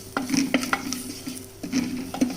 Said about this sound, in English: I am adding the ginger paste. Once the ginger paste is sauteed well